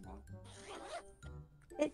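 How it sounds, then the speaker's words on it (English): A clothing zipper on a hoodie being unzipped, a short close scratchy zip followed by another quick zip, with a voice murmuring briefly around it. "I just heard the zip unzip."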